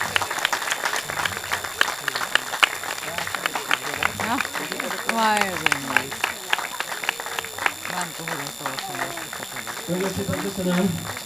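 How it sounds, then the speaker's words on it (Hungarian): Audience applause at an outdoor horse-riding day event, a steady wash of many hands clapping for several seconds with scattered voices and cheers mixed in. "Nagyon szépen köszönöm. Ezért a tapsért."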